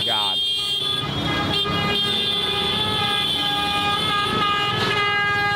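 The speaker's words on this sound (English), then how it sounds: "people are honking the horn" Horns honking in chaotic traffic somewhere like India, with motorbikes weaving through and pedestrians crossing; a sustained horn tone runs steadily throughout, mixed with road noise and a talking voice.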